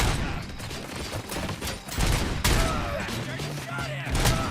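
Dense bursts of automatic gunfire and shots fill a firefight in the game RoboCop: Rogue City, loud and continuous over combat noise and music.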